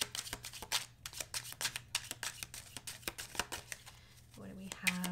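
Quiet riffling and shuffling of a White Sage Tarot card deck, close by, in quick irregular bursts, with a faint voice near the end.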